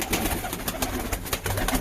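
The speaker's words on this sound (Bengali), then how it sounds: "দাদার কিছু কবুতর দেখতে পাচ্ছি, ভালো লাগছে, সব ভালো কবুতর আছে" Pigeons coo close by in soft, repeated throaty pulses over a steady background hum, with no one talking.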